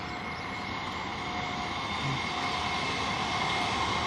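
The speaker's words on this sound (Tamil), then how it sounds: "இப்போ ஒரு ட்ரெயின் வந்துக்கிட்டு இருக்குது" A steady, broad rumble of a local train approaching, with a constant mechanical drone and faint high whine, heard from a moderate distance.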